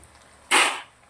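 Crisp fried banana tikki shifted into a metal strainer, giving a single bright rustling clatter lasting about a third of a second, close and fairly loud against a quiet background.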